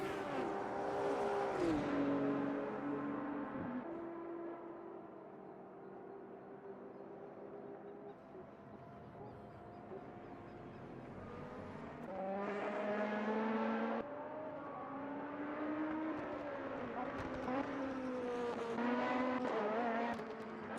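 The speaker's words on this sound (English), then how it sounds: "Oh, look at the grid here. There's so many cars." Race cars in a video game league race stream past on a crowded grid, engines revving and shifting continuously, with clusters of cars swelling louder at times and steady roaring between.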